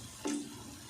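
A short splash of water poured into a cooking pot of frying spices, cumin and chillies for karela chana dal, a single brief pour lasting a fraction of a second, close and soft.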